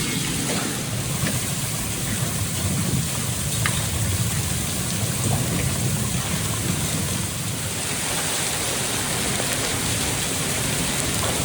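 A heavy rainstorm with hail pours down, a dense, steady hiss and patter with occasional sharper ticks of hailstones, loud and continuous with no voices.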